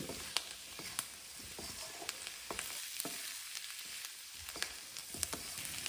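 Potatoes and peas with fresh green coriander sizzle and fry in a hot pan for a dry aloo matar dish, a steady crackle broken by sharp stirring scrapes and clicks throughout, close and without talk.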